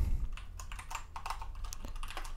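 Computer keyboard keys tapped close by while writing a message, with a quick, irregular patter of soft clicks and small pauses that carries on for the whole stretch.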